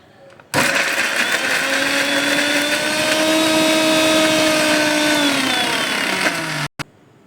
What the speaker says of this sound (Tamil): இப்போ நம்ம இது வந்து மிக்ஸி கப்பில் போட்டு அரைச்சி வச்சிடலாம்